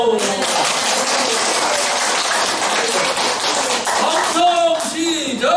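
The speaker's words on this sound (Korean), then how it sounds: "오늘 박수!" Audience at a Korean lecture bursts into loud, dense clapping that fills the room, and voices rise over the applause as it trails off near the end.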